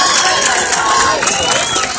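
Baseball crowd at Osterhaus Field on its feet during a CIF Division 1 playoff game, a loud, steady roar of cheering and shouting filling the whole moment, with a voice talking over it.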